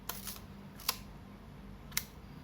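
Yashica Electro film camera shutter firing, three sharp mechanical clicks spaced about a second apart, close and distinct over low steady background hum.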